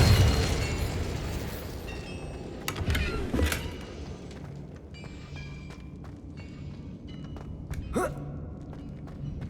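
An Incendio fire spell in Hogwarts Legacy sets off a burst of flame over a constant rumble of gameplay, with a few sharp cracks and bright whooshing flares standing out, the loudest around the middle and near the end.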